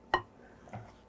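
Chicken casserole mixture goes into a 9 by 13 casserole dish with a sharp clunk, then a softer scrape and thud a moment later, close and alone.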